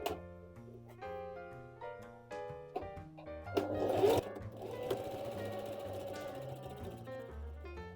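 A sewing machine stitches through three layers of fabric in a short run midway, heard faintly beneath prominent background music throughout.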